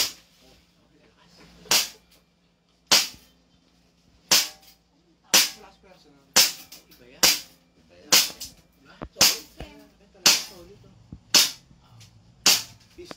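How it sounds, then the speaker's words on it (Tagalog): Upgraded 2011 pistol firing about a dozen sharp, loud single shots at a steady, unhurried pace, each crack close and clear with brief quiet between. "Magpa-firing lang si boss."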